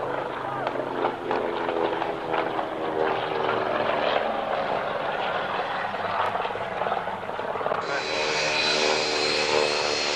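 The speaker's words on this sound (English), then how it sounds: "The aircraft has the same engine in it as the B-25 Mitchell twin-engine bomber." A vintage aircraft engine of the type used in the B-25 Mitchell twin-engine bomber, heard at an airshow; a steady, loud, broad engine roar holds throughout, with its tone brightening near the end as the aircraft passes.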